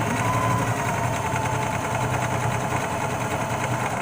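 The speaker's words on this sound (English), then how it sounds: "So let me finish getting this sewn on here" A sewing machine stitching swimsuit fabric, a steady, fast mechanical whir and rattle running close and unbroken throughout, with no speech.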